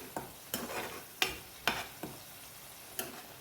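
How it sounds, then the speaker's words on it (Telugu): Onions frying in a pan for spicy prawn curry, a low background sizzle broken by about six sharp scraping strokes of a spatula at irregular intervals, close and fairly quiet, with no talking. "ఇది సరిగ్గా వేగకపోతే పచ్చికంపు కొడుతుంది చక్కగా వేయించుకుందాం"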